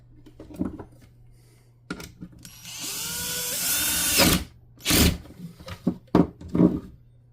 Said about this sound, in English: Now we can start screwing this back in.